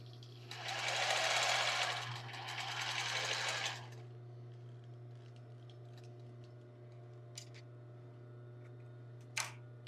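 Sewing machine running along a tulle and lace bra seam, two steady close bursts of stitching over the first four seconds, then a quiet room with a few faint clicks and a sharp tap near the end.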